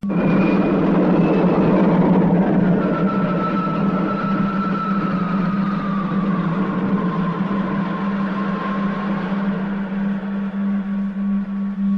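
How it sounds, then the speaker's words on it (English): A science-fiction spacecraft takes off with a loud, sustained engine drone and a slowly shifting whine over it. The roar stays steady and close, easing slightly near the end. "Mission unit gaining speed. All in order. Ready to lift. Takeoff program starting now."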